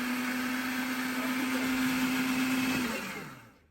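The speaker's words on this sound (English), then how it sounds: "Since we're using a food processor to chop our onions" Food processor chopping peeled onion chunks: a loud, steady motor whir that runs for about three seconds, then winds down and stops.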